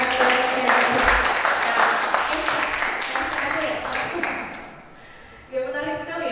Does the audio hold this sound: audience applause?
yes